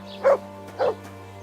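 A dog in the video game Kingdom Come: Deliverance II gives two short, fairly close barks about half a second apart over a faint steady hum.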